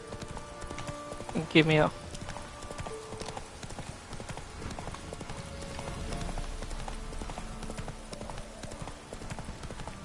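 In The Witcher 3, a horse gallops with a rapid, continuous clip-clop of hooves at close range, joined by a brief snort or whinny early on, while someone talks over the riding.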